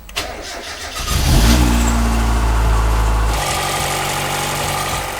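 A car engine cranks and fires up right after its radiator has been filled, then settles into a loud, steady idle close by.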